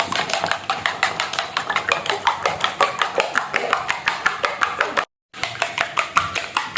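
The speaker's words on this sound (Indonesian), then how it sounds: "Nah, setelah ini kita kocok terlebih dahulu ya." A utensil beats egg batter seasoned with curry spice in a bowl, making rapid, steady clinking strokes that run nearly continuously, with one brief pause before resuming.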